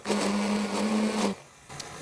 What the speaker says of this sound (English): it's very, very quick if you've got a little hand blender